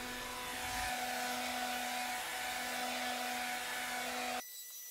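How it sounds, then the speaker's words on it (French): A hair dryer blows on fresh paint on a Volvo 480 Turbo car body, a steady close whirring drone with a constant tone that runs for several seconds and then cuts off abruptly. "repasser un coup de sèche-cheveux sur la peinture encore fraîche pour essayer de sauver le brillant"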